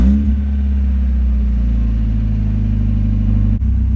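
A Mazda Miata engine fires up and settles into a steady, loud idle right after an oil change, with a continuous low rumble that holds evenly throughout and briefly dips once near the end.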